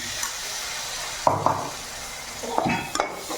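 Chilli powder and curd masala sautéing in a pan for a kola fish fry, a soft steady sizzle broken by a few short scraping stirs, with no talk.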